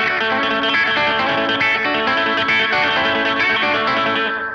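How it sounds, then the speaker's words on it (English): An electric guitar plays rockabilly hybrid picking, pick and fingers together, with plucked, snappy notes mixed with picked low strings, heavily processed with chorus and distortion, loud and continuous. "pick one of the low strings and pick with your fingers at the same time, like this"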